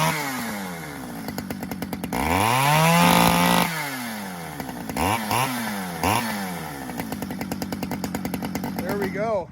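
A small two-stroke chainsaw engine sputters, then catches after choking and a pull of the starter cord, revving up and down in loud, rising and falling bursts at close range.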